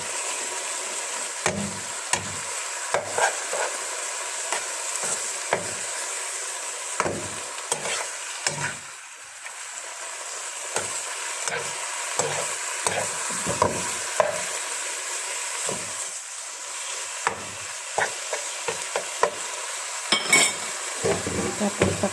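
Homemade shawarma stirred in a pan, a steady sizzle broken by repeated scraping and clinking strokes of a utensil against the pan, close and fairly loud, with no one talking.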